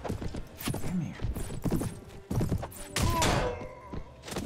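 Horse hooves clip-clop at a gallop in the medieval combat game Mount and Blade Warband, with dull thuds of impact and a brief whinny amid busy battle noise.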